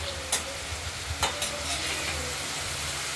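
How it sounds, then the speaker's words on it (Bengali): Prawns fry lightly in a pan with a steady, close sizzle, broken by a few sharp clatters and scrapes of stirring early on. "মাছগুলো একটু ভেজে নেবো, হালকা ভেজে নেব"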